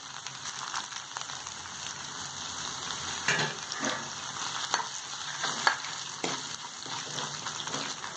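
Spices, ginger and curry leaves frying in hot oil for ven pongal, a continuous crackling sizzle with occasional louder pops and stirring scrapes, close and fairly quiet.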